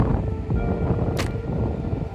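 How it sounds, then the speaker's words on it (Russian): Wind gusts across a rooftop by the sea on the Mersin coast in Turkey, a loud, rough rumbling roar that buffets continuously, with one brief hiss partway through. "Сегодня ветрено."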